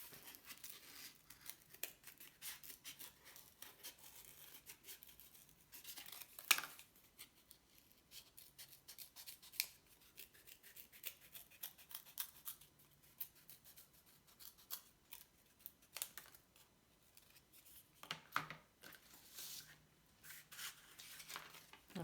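Scissors snip through cardboard for a lid flange, giving faint, irregular cutting and rustling sounds close by in a quiet room.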